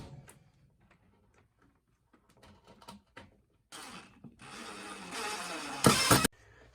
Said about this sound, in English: And we're just going to screw it on through those.